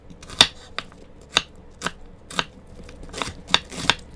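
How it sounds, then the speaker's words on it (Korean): A knife slices a halved onion into strips on a cutting board, giving about ten crisp, separate cuts at an uneven pace, each one short and close with nothing else heard. "양파는 반으로 잘라 채 썰어주세요."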